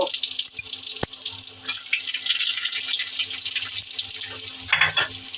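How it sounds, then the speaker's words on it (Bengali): Garlic, dried red chili and cumin seeds dropped into hot oil give a bright, continuous hissing sizzle, close and fairly loud, swelling near the end. "তেল গরম হয়েছে, একটু রসুন শুকনো মরিচ ছেড়ে দিলাম, জিরা ছেড়ে দিয়েছি"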